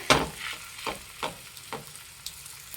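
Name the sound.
ragi rotti placed on a hot pan, sizzling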